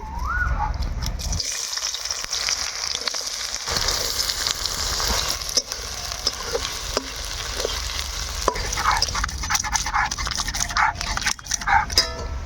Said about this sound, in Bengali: তেলটা গরম হয়ে গেলে এখন দিয়ে দিলাম পেঁয়াজ কুচি